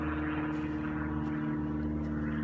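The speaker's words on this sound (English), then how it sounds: "Do you hear the airplane?" A propeller airplane drones steadily overhead at moderate distance, a continuous low engine hum with no talk over it.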